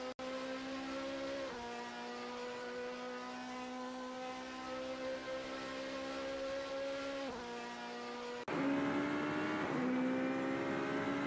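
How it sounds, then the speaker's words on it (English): Race cars in the SimSpeed Super GT racing video game scream by: a loud, sustained engine whine whose pitch dips at each gear shift, then jumps louder and higher near the end as another car passes, with no talk. "There's not much better than sitting near here and watching the cars speed by."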